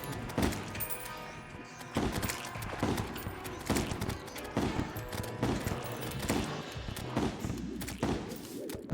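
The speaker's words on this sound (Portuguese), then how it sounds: "Tá uns tiros de shotgun aqui nos goblins aqui" Shotgun blasts against goblins in Terraria, rapid repeated booming shots with thuds and clatter in a busy game fight, fairly quiet, with someone talking over the action.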